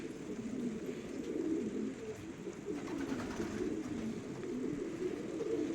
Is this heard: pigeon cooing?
yes